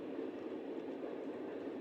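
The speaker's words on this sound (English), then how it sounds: "Nothing like hearing a train in the distance" A CSX local freight train rumbles in the distance, a steady low rolling drone with faint rail noise, heard outdoors and alone without talking.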